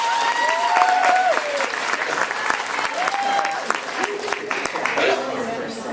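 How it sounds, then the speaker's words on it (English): An audience applauds a platinum sponsor at a business event, a steady dense wash of clapping lasting several seconds while a voice and tonal sounds carry on over it. "I want you to please give Cabbage a special applause today for being our platinum sponsor."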